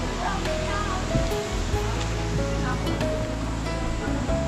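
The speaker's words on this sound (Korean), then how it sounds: "물 흐르는 소리가 들리네" A mountain stream flows and rushes steadily in the Cheongsong countryside, with a constant broadband wash and faint tonal sounds drifting through it.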